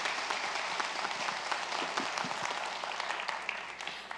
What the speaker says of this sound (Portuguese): Vamos muito aplaudir.